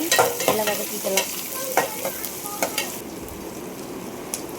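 Sliced onions, green chillies and curry leaves sautéing in a pan for chicken kulambu, with a steady close sizzle and repeated scraping stirs of a spoon, louder at first and then settling into constant frying.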